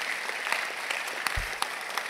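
A church congregation at a second Sunday service claps in a brief burst, a fairly loud, even patter of hands with a low thump partway through.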